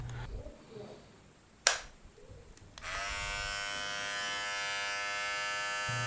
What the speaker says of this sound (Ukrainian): шум від тримера не гучний, працює досить тихо, з насадкою трохи голосніше